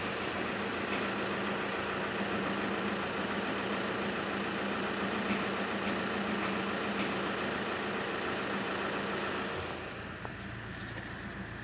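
A Honda engine idles with a worn dual-mass flywheel: a steady, fairly quiet hum with a fine rattling knock running through it, which eases slightly near the end. No voices are heard.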